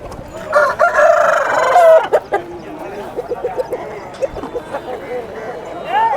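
A very large rooster at a weekly village chicken market crows loudly and nearby, followed by clucking and shorter calls from other fowl, with market chatter and voices underneath.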